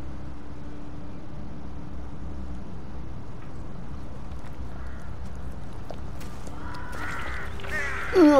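Crows caw in the video game Nioh over a steady low ambient rumble, a few harsh calls rising near the end of the stretch.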